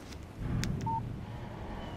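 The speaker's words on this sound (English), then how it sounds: "Text message from Barry." In the Alan Wake video game, a phone gives a brief text message tone, a single short electronic beep heard over a low background hum with faint clicks around it.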